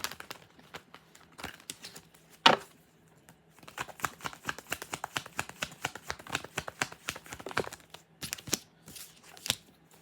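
Tarot cards being shuffled in a quiet room, giving dense bursts of crisp riffling and flicking with short pauses between runs, close and fairly soft, with no talking over them.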